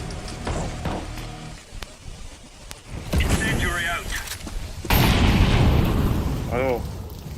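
A video game incendiary grenade goes off with a loud burst and a sustained crackling roar, after quieter gunfire and game noise, with a voice talking briefly over the action.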